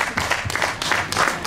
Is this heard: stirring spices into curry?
no